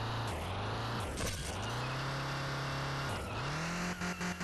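Car engine in the Project Drift 2.0 mobile racing game revving hard, the pitch climbing, then dropping sharply with throttle blips around the middle, rising again and sputtering into quick cuts near the end, loud and close.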